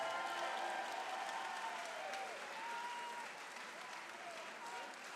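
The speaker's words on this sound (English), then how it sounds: "Applause out here for both of these fighters" A fight-night crowd applauds both fighters after a bout ends, steady clapping with faint cheering at a distance, while a voice talks over it throughout.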